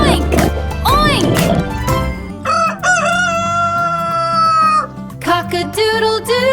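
Rooster crow in a children's farm animal phonics song, a loud, drawn-out cock-a-doodle-doo sung by a voice imitating the bird over bright musical backing.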